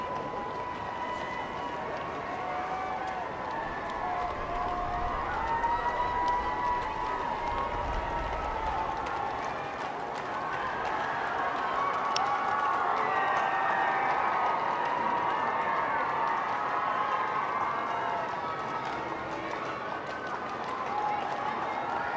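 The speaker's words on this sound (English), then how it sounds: "Lots of cheering from the crowds who've gathered here for the past 2 or 3 hours" A large crowd at Trooping the Colour cheers and murmurs continuously, a dense wash of voices with scattered shouts, steady and fairly loud throughout.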